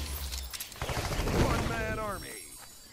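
The Vampire's Bite gun fires in Blitz Brigade as a quick rattle of shots in the first half, then game effects follow, with voices heard in the mix.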